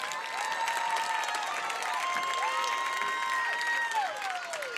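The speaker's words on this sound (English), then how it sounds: "Please give Mrs. Casey Bueller a big round of applause." An audience applauds an elementary school teacher being honored as Teacher of the Year, a soft, sustained clapping with high, gliding whoops and cheers riding over it.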